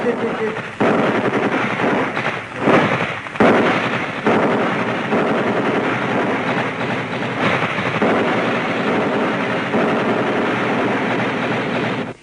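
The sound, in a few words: gunfire in a drama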